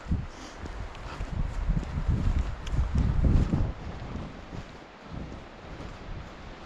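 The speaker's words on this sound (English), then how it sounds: "The wind's blowing the mist over this way." Wind gusts outdoors beside trees, blowing mist along, as a low, uneven rumble buffeting the microphone that swells and fades over several seconds, with no speech.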